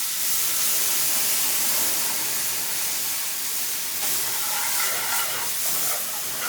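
Tomato puree fries in a very hot pan of vegetable ghee, giving off a dense, continuous sizzle and hiss, loud and close throughout.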